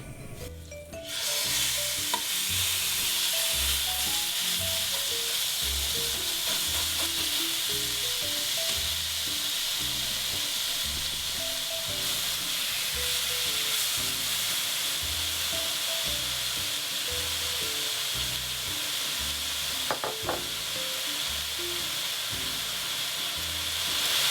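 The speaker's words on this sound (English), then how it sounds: "we're going to put our pork into our frying pan and just let it sear off" Steady sizzling of pork tenderloin searing in a hot frying pan, a constant hiss with occasional scraping and stirring, no talking.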